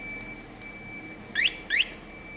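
A Kawasaki ZL600 motorcycle alarm with a low battery gives two faint, short rising chirps over a steady thin tone and background hiss.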